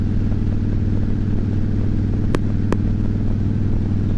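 A motorcycle ridden along a road at night gives a steady, close engine drone with a deep low rumble that holds level throughout, with two brief sharp high ticks partway through and no voices.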